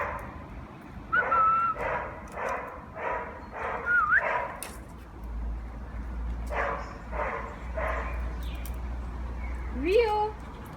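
Pet birds imitate dogs, producing repeated bark-like bursts in clusters along with whistles and squeaky calls, close by, while people talk and exclaim in the background.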